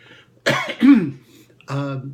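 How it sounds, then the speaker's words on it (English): A single cough with some throat clearing from a man partway through a lecture, close and fairly loud, framed by brief bursts of his voice before and after. "Excuse me, I have to cough."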